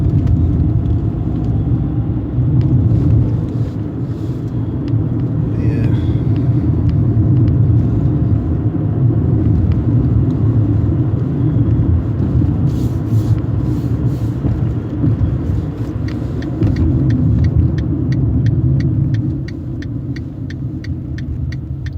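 A car drives over very bumpy roads, heard as a continuous heavy low rumble with faint rattles and knocks throughout, and no talking.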